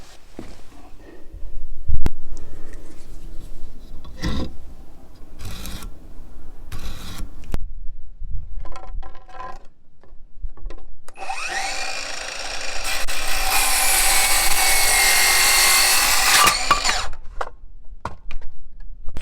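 A power saw cuts through a piece of wood for a garage ceiling lift install, a loud, steady high whine lasting several seconds after scattered knocks and handling noises.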